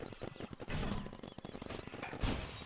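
Rapid gunfire from a Sniper Deagle in the Roblox game Big Paintball, a dense crackling burst of shots and thuds with a heavier blast near the end, close and busy.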